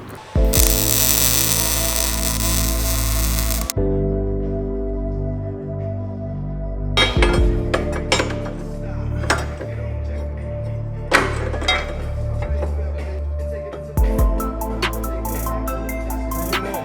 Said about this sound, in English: Moving on to finish welding the motor mounts.